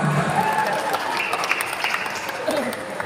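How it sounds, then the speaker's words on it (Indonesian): Applause from an audience at a Betawi silat competition festival, a steady wash of clapping and crowd noise that runs under an announcer's talk throughout. "Sekali lagi tepuk tangan untuk kita semua"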